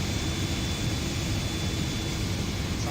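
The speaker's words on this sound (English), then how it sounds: "Sounds like there is a plane near us." A nearby Airbus-type airliner at Frankfurt airport in the X-Plane 12 flight simulator, a steady broadband engine roar that holds loud and even throughout, with no talking.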